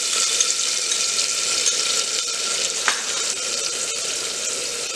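Steady, dense sizzling of yogurt hitting a hot pan with browned ingredients for a Navratri fasting thali, loud and continuous with no talking.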